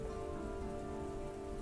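Steady rain falling in a tabletop role-playing game scene, a constant even hiss of drops on surfaces with a faint low rumble beneath, no voices.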